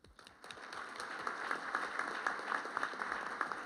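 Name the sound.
audience applause at debate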